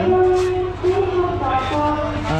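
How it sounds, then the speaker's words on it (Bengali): Inside a local passenger train leaving Rajshahi station for Chapainawabganj, a steady low rumble and hum of the moving carriage runs under faint background voices. "আর আমরা উঠে পড়েছি আয়ার ট্রেনে লোকাল ট্রেনে"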